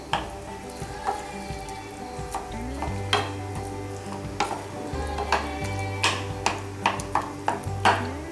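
Potatoes are being stirred into a frying poori masala, with a continuous sizzle under repeated clinks and scrapes of a spoon against the pan that grow quicker toward the end. There is a low hum in the background and no speech.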